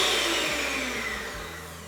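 An electric whisk beats a couple of eggs in a steady, fairly faint motor whir that holds unbroken for the whole moment, with no talking.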